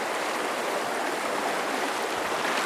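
A small rocky-bottomed stream near Sheridan, Wyoming, rushes and burbles over stones in a steady, close, unbroken wash of water noise, with no voices.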